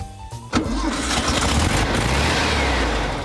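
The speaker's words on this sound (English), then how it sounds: "It's an air-cooled flat 4 boxer engine" A Volkswagen air-cooled flat-four boxer engine cranks briefly, catches, and settles into a steady, rough, throaty idle close by, the low rumble continuing evenly afterward.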